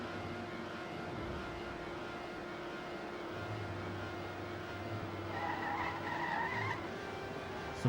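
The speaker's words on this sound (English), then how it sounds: "So drifting by Lurk again." A race car drifts in the Trackmania NASCAR/funspeed game, its steady engine drone joined by a long sliding tire skid that swells midway, loud and continuous with no talk.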